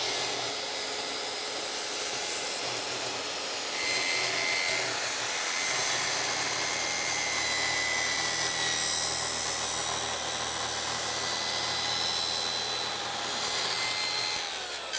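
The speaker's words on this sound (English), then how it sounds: "Now I just make the plunge cut." A track saw plunges into MDF on a multifunction table and cuts across it, giving a loud, continuous high whine and rasping saw noise that holds steady for the full stretch, with no talk.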